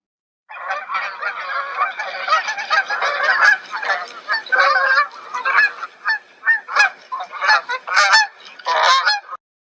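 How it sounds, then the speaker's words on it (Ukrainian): A flock of wild geese honking continuously as they fly off south, many overlapping calls in an irregular, noisy chorus that grows choppier toward the end. "Дикі гуси галгочуть, відлітаючи у вирій, наповнюють ліс шумом"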